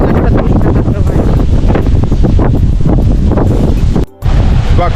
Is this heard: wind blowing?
yes